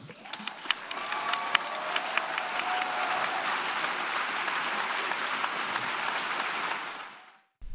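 Audience applause at a UN speech builds from a few sharp claps into broad, steady clapping from a large hall, ending abruptly.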